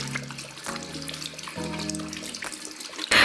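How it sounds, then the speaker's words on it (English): Hands are washed under a running tap, with water splashing and trickling steadily at close range over soft tonal music, ending in a brief louder gush. "and wash my hands properly"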